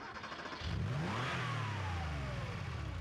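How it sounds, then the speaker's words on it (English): A vehicle engine in a video game starting up, turning over and rising into a steady mid-pitched revving drone that holds loud and close to the end. "I'll see if the engine will start."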